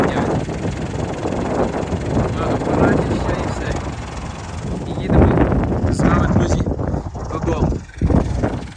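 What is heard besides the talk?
strong wind blowing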